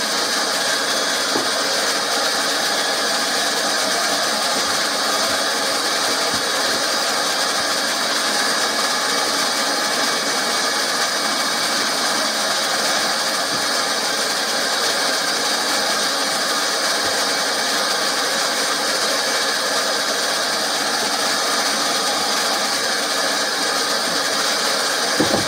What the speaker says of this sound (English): Gun's just warming up now, so I'm gonna do the welding on it.